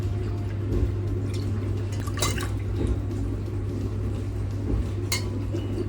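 Liquid mixture ladled from a large egg pot in a tiny house bungalow splashes and drips in a few soft, close spills over a low steady hum.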